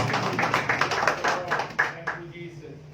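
A church congregation at a Sunday service clapping in a quick, steady rhythm, close and fairly loud, with a voice calling out over it; the claps trail off near the end.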